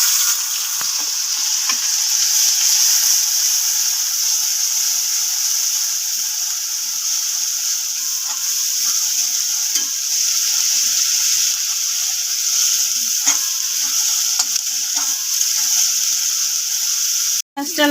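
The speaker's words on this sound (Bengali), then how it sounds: "পেঁয়াজটা দিয়ে দেবো তেলে।" Chopped onion sizzles steadily in hot oil in a home kitchen pan, a continuous bright crackling hiss with occasional stirring clicks, close and loud throughout with no talking.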